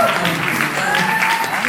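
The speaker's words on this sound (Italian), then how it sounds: "Ce lo fate sentire un primo applauso, Ristano?" An audience in a theatre in Oristano applauds at the opening of a live comedy show, a short, loud burst of dense clapping with some cheering tones mixed in.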